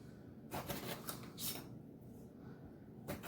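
Knife cutting the tops off bell peppers on a cutting board while preparing keto freezer casseroles, a few quiet crisp slicing and tapping sounds in separate bursts.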